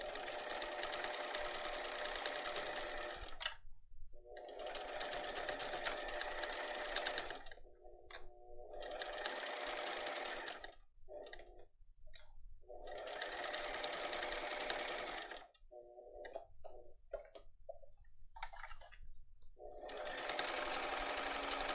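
Sewing machine stitching a messenger bag in several separate bursts of fast close rattling, each a few seconds long, with silent gaps between them where the needle stops.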